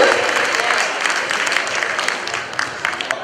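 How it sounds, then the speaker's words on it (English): Sustained applause from an audience at a 2018 charity gala in Austria, welcoming a speaker onto the stage, a steady dense clapping wash that fills the hall without a break. "Big round of applause for him, please."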